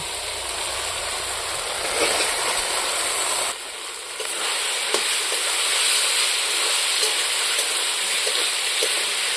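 Spiced vegetables sizzle and fry steadily in a pan with salt, turmeric and masala, a dense continuous crackle with occasional stirring scrapes and a brief dip partway through.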